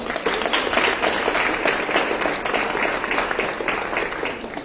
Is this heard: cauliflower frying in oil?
no